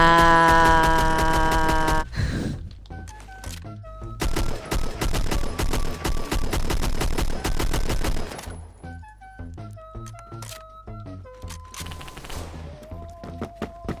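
DMR rifle fire in the video game Phantom Forces: a fast, sustained string of loud, sharp shots cut by brief pauses, with intermittent game interface tones alongside.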